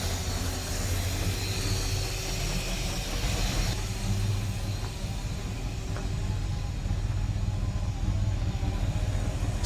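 A Ford Fairlane with a 5.0 V8 idles close by, a loud continuous low rumble with a slight chuffing rhythm from the exhaust, heard alone.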